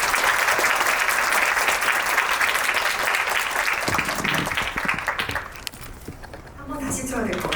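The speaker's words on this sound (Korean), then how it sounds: "세 분의 게스트 입장하실 때 큰 박수 부탁드리고요" An audience at a Korean film talk event applauds loudly as three guests, the director and two actors, walk in. Dense, loud clapping dominates at first, then thins out and fades, leaving scattered claps and murmuring.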